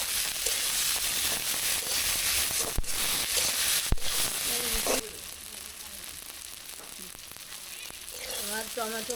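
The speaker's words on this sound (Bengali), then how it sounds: "আমার টমেটো ভাজা হয়ে গেছে" Tomatoes fry in a pan with a continuous sizzle that drops in level partway through, punctuated by a couple of sharp clicks and some faint voice-like sounds near the end.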